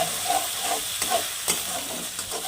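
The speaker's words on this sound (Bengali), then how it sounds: "এখন আমি এর মধ্যে কাঁচা লঙ্কা বাটাটা দিয়ে দেব। দিয়ে এটাকে আমি একটু কষিয়ে নেব।" Green chilli paste sizzles and fries in a pan while a spatula stirs it in quick scraping strokes, close and steady, with no talking.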